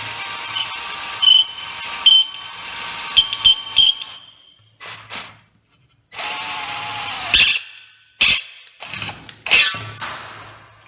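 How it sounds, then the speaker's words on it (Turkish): An Einhell TC-CD 18/35 Li cordless drill whines in several bursts, spinning up and cutting off repeatedly, with short pauses and sharp clicks between runs. "Matkap gayet güçlü arkadaşlar."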